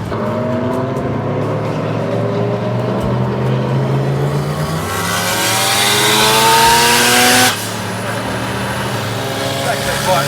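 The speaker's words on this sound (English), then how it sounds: "Lots of wastegate racket." Turbocharged race car engine revving hard on a roll-racing track, rising pitch over several seconds with a loud burst of turbo wastegate chatter before it cuts off, heard up close with voices talking over it.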